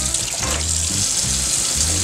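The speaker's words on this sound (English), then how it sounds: "We're gonna wash them one more time." Tap water runs steadily into a sink as collard greens are rinsed, a continuous close rushing splash with low handling thumps, no voices.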